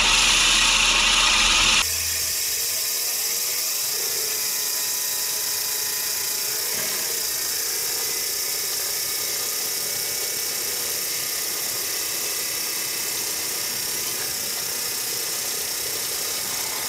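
Blades of a Gardena reel mower spin in reverse for sharpening, giving a steady whirring, grinding drone that runs on evenly for over a dozen seconds after a brief louder burst at the start.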